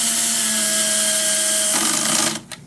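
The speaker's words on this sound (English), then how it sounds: "look, he's getting a power tool" A power tool whirs steadily as it drives a screw into a Stratocaster guitar during assembly, a close, high, even motor whine that shifts pitch, then cuts off abruptly with a brief tail of handling noise.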